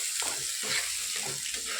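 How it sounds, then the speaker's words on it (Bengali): Spices frying in the hot oil left in a pan after fish was fried, giving a steady close hiss and sizzle over a short stretch with no talk. "মাছ ভাজা নামায়ে ওই তেলের মধ্যে মশলা দিয়ে দিলাম।"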